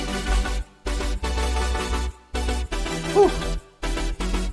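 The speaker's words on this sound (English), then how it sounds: "This is a sample loop." A trance-style sample loop meant as a remix drop plays loud and close, with heavy bass chords chopped into rhythmic blocks by short sharp silences.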